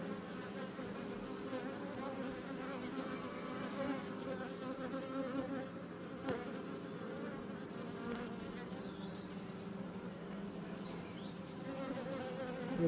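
Honeybees crawl and buzz inside a beehive, making a dense, continuous droning hum that stays close and even for the whole stretch, with no voices.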